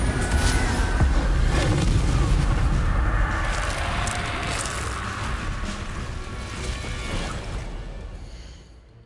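A loud whooshing, roaring burst of flame from the Incendio fire spell in Hogwarts Legacy on PS5, a dense rumble that swells and then slowly fades, with no talking.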